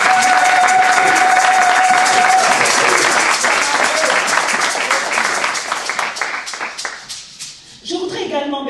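A church congregation at a women's conference claps and cheers for the Lord, a dense, loud wave of applause with a voice over it early on. The applause thins toward the end before a voice returns.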